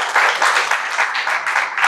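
An audience at a book launch ceremony applauds a professor's speech, with steady, dense clapping that stays loud and even throughout.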